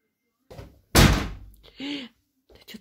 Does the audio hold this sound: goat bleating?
no